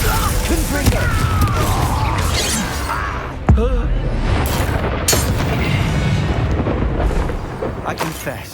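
A Confringo blasting curse goes off in Hogwarts Legacy with one sharp, heavy boom partway through, inside a dense, busy mix of game combat noise and other spell effects.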